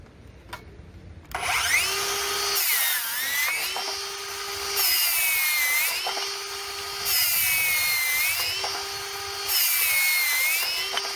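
Ryobi brushless cordless circular saw pushed hard through wood, a high whine that sags and recovers in four repeated loaded cuts, each separated by brief lighter spinning, loud and close with no talking.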